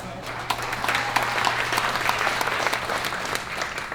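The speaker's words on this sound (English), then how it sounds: "So a round of applause for them" Wedding reception guests applaud the groomsmen and bridesmaids during a best man speech, a lively, steady round of clapping from a large room with a faint low hum underneath.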